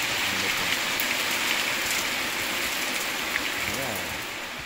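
Steady rain patters on a surface during a water test of an iPhone 6S Plus, a close, even hiss of drops with faint voices murmuring beneath.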